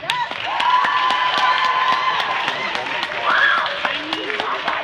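Audience applause and cheering for an opening performer at a concert, a steady wash of clapping with whoops and crowd voices throughout, close and fairly loud.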